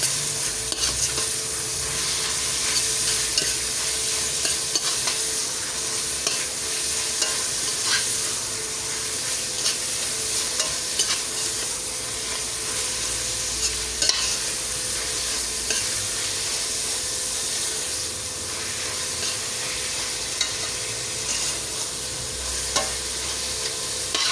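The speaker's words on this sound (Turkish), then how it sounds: "Tavuk suyuyla beraber kavuracağım, şey yapacağım, pişireceğim." Chicken pieces and chicken broth sizzle steadily in a hot pot for soup while a utensil stirs and scrapes them, a continuous close frying hiss with occasional clinks.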